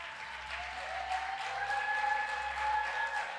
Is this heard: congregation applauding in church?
yes